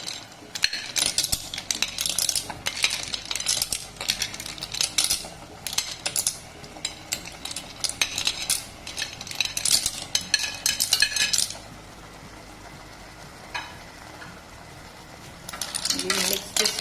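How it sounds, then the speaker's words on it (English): Hard clam shells clatter and rattle into a metal pan of Goan masala, a dense run of sharp clinks and scrapes that stops, then returns briefly at the end. No one speaks. "Now we'll be adding the shells to it."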